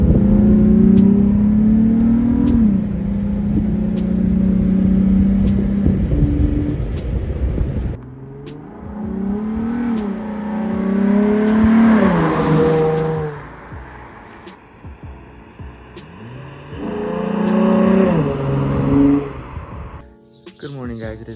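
A car engine fitted with a cheap eBay intake revs up hard in first gear, then drops and rises again through downshifts, with loud swelling and falling whooshes heard from inside the car and brief quiet gaps between pulls.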